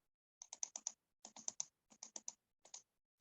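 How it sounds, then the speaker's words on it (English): Computer keyboard typing in bursts of quick, crisp key clicks, four or five strokes at a time with short pauses between, close and clear with no talk. "Someone is typing something."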